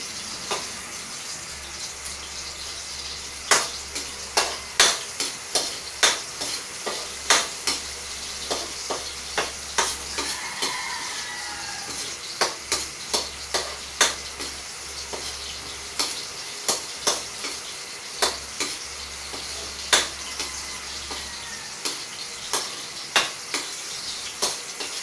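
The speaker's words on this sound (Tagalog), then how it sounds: "Medyo luluto-lutuin lang natin yung bawang at saka yung luya." Garlic and ginger sauté in a pan for a tilapia escabeche sauce. A soft, steady sizzle runs beneath repeated sharp scraping and tapping strokes of a utensil against the pan, all fairly close and with no talk.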